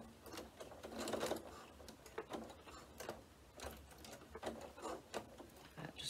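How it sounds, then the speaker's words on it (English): A sewing machine stitches fabric for a sequin pencil case in quick, rhythmic bursts of mechanical clatter, quiet and close, with no talking. "So we're just sewing along that line again, keeping these edges all level"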